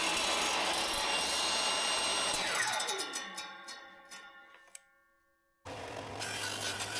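Table saw on a sled cutting purpleheart and maple wood, a loud steady whine as the blade bites, then spinning down with ringing tones into near silence before the motor roars up again.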